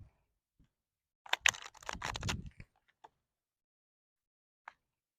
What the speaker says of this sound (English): Let's do a few more shuffles.